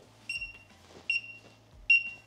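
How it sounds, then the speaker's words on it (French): An Action-brand budget AirTag tracker sounds its locating tone: three bright, loud electronic beeps spaced about 0.8 seconds apart, close by, with faint low hum and rustle between them. "Pour savoir lequel c'est, je vais émettre un son."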